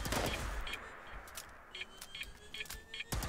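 Enclave auto rifle firing in Fallout 76, a burst of sharp gunshots followed by several spaced single cracks and short volleys, loud and close with a mechanical rattle between shots.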